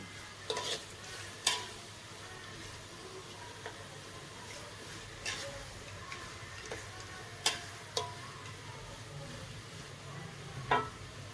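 Chilies fry quietly in a pan under a steady soft sizzle, with scattered sharp ticks and clicks of a spatula against the pan at irregular intervals, no talking.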